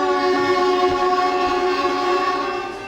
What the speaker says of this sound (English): I gotta change the horn on that Shinkansen later on.